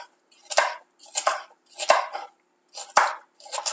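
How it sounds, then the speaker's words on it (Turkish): Green peppers sliced on a cutting board with a knife, five crisp, evenly spaced chops in quick succession, close and clear with no talking. "Şimdi yeşil biberlerimi doğruyorum."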